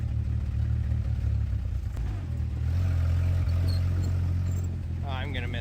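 A 1956 Willys Jeep CJ5 engine runs steadily with a low, throbbing idle and rumble that swells slightly partway through, close and continuous, with faint rattling and a brief higher whine near the end.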